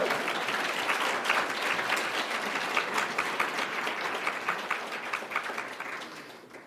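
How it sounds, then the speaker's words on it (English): A large audience applauds scholarship recipients at an annual scholarship celebration, steady dense clapping holding at an even level throughout and fading slightly toward the end, with no speech. "I think we can give a round of applause for the first group."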